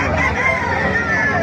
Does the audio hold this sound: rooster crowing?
yes